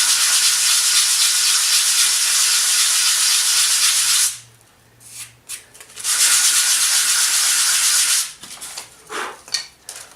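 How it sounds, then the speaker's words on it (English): A piece of blue Styrofoam rubbed across an old sheet of sandpaper, a loud, close, harsh rasping in two long continuous strokes separated by a short pause filled with softer scraping. "I'm just going to run my piece over the sandpaper."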